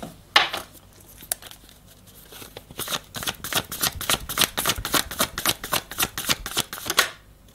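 Tarot cards are shuffled in a long run of rapid, crisp papery flicks and slaps, close and steady, with a few separate snaps as cards are drawn from the deck.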